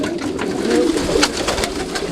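Racing homer pigeons cooing inside a loft compound, several overlapping throaty coos and soft bird calls, close and fairly loud throughout the short stretch.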